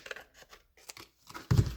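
Scissors snip through paper while a junk journal is being made, a few soft crisp cuts ending in one louder, fuller snip, close by and with no talking.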